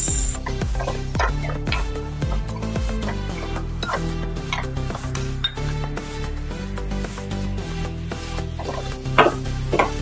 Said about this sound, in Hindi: थोड़ा अब इसमें पानी डालेंगे।